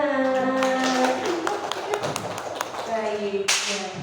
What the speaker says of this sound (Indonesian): sama Bu Anis, tepuk tangan.